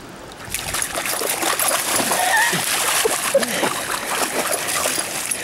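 A dog swims and splashes about in open water, with steady broadband sloshing and spattering close by that continues throughout while people talk and cheer nearby.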